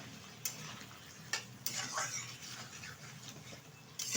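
Fish curry thickened with cashew paste is stirred in a pan over a low simmer, with a few crisp ladle knocks and scrapes against the metal.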